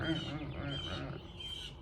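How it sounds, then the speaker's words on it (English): Crows and other birds call and squawk steadily in the background, a busy outdoor chorus mixed with a low murmur that could be voices. "these birds are chirping in the background"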